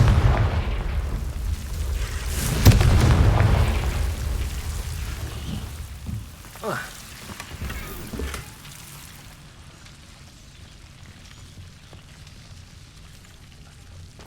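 Confringo blasting curse from Hogwarts Legacy detonating as a deep, loud boom that rumbles and crackles for a few seconds, followed by smaller bursts before fading into quiet ambience.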